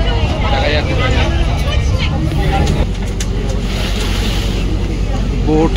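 Boat cruising on the harbour water near the Gateway of India in Mumbai, engine rumble and wind buffeting the microphone over splashing water, with people talking nearby throughout.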